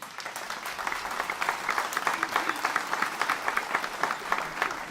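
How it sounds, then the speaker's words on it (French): A congregation at a Mass applauds the bishop of Lugano with a sustained, even patter of many hands clapping in a reverberant chapel, steady from start to finish. "Nous l'applaudissons."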